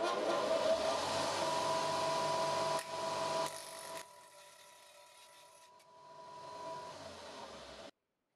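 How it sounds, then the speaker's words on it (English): Angle grinder cutting away about an inch of teeth from the bottom of a Japanese handsaw blade in a woodworking shop, a steady loud whining grind for several seconds that drops and thins out before stopping abruptly. "I'm just going to use the grinder here and remove probably like an inch or something like that of teeth at the bottom here."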